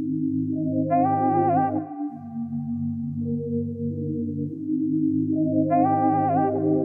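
A vocal one-shot sample in a smooth FL Studio beat, a sustained sung tone with vibrato riding over a thick low bass pad, repeating twice across the loop at steady loudness with no talking.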